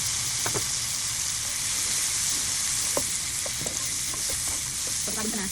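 Mushrooms fry in a pan with fish oil, giving a steady, close sizzle throughout with a few light stirring scrapes and clicks scattered over it.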